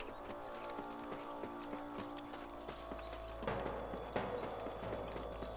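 Horses gallop in Red Dead Redemption with a quick, rhythmic clip-clop of hooves that rolls on steadily and grows heavier and denser partway through as more riders join.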